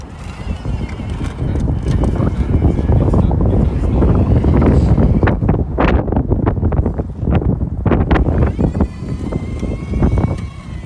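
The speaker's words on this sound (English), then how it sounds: "It is very windy outside of Chicago here." Strong wind outside Chicago during wet snow-plowing weather roars and buffets the microphone in loud, continuous gusts, with a voice partly heard beneath the rumble.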